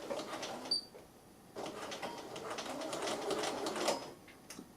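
Sewing machine running a short back stitch at the top of a dart on light fabric, quiet rapid mechanical whirring in brief bursts with a pause between, close and soft.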